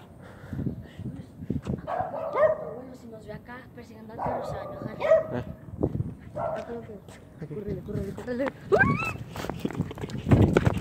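A dog indoors in a house barks and yips repeatedly in short bursts, with some whimpering, close by and loud, while people talk over and between the barks.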